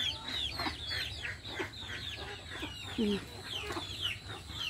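Several chickens cluck and chatter nearby in a steady, overlapping stream of short calls, with a few lower grunting notes mixed in.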